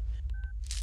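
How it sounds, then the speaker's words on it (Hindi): A telephone number is dialed on a phone keypad, giving a few short, close tones with a brief steady tone in the middle, followed by a burst of hiss. "उसे फोन लगाइए।"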